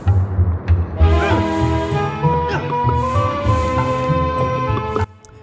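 Layered electronic background music from the first level of Disney's Aladdin in Nasira's Revenge on PS1, with steady low pulses and bright melodic lines, playing continuously before cutting off near the end.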